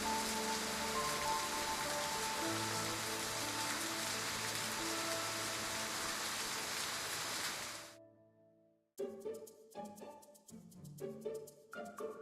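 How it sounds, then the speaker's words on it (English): Steady rain falls in the video game Love and Deepspace, a dense, even hiss with soft music beneath. It fades away partway through, and gentle music carries on alone. "I wanted the rain to last a little longer."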